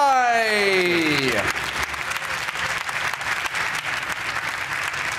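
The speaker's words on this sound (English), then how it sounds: "Please give a massive round of applause, Joe Buckeye!" Audience applause at a Ford Focus RS global car reveal event, loud steady clapping from a large crowd that rises as an announcer's voice ends and then carries on alone.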